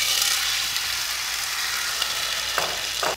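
A red wine reduction sizzles steadily in a hot pan with a little residual caramel, a loud, close hiss, with a couple of brief stirring scrapes near the end.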